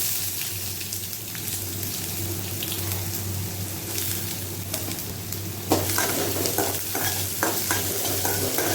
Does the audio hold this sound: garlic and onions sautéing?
yes